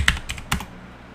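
A computer keyboard is typed on for a short Linux terminal command, giving three or four quick, close key clicks followed by quiet.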